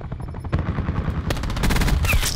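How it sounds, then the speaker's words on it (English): Rapid automatic gunfire from an attack helicopter in Black Ops 4 game, loud and sustained bursts of rattling shots that intensify toward the end, without speech. "I'm an attack chopper."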